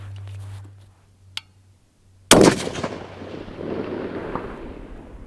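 A single loud 6.5 Creedmoor Thompson Center long-range rifle shot fires a 140 grain Hornady ELD Match round, a sharp crack followed by a long rolling echo outdoors, with a faint earlier pop and low hum before it.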